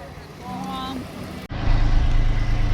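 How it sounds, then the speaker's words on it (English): A sailboat's motor starts up partway through and then runs with a steady, loud, low hum after a voice is briefly heard at the start. "So we just got the motor spinning again."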